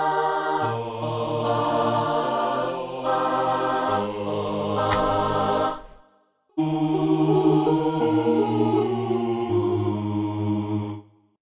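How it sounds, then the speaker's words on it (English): Choir voices from a free software instrument plugin sing sustained chords that shift every second or two, with a short pause near six seconds before another held chord passage. No talking. "First, we do have 2 different choir ones,"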